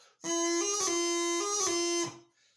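Bagpipe chanter with a steady drone, playing a short E doubling phrase where the quick grace notes smear together instead of sounding crisp, loud and close.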